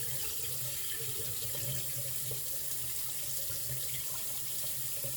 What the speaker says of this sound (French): Fait qu'on rince la microfibre